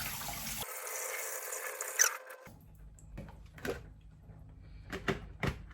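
Water runs over a freshly repotted Hoya houseplant in semi-hydro, a steady rushing stream for about two seconds, then stops, followed by scattered drips, taps and handling noises close by.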